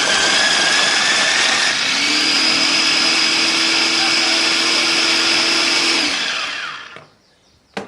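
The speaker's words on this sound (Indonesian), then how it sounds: "Sekarang kita siapkan untuk bumbu sambalnya, ada bawang, brambang dan juga ada lombok. Ini mau kita giling ya." Electric grinder blending garlic, shallots and chili for a sambal spice paste, a loud steady whir running continuously for about six seconds before stopping abruptly, with a faint clack at the very end.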